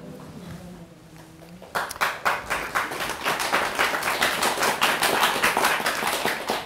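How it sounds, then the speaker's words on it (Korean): An audience claps after a Buddhist dharma talk, the applause starting abruptly after a quiet pause and continuing as brisk, fairly close, rhythmic clapping to the end. "근데 박수를 치려면 말 떨어지자마자 콱 치든지"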